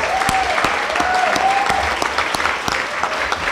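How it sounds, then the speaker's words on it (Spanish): A congress audience applauds children at an official event, the clapping steady and full throughout, with scattered voices rising over it. "pedir un gran aplauso para estos niños y para estas niñas que hoy nos acompañan"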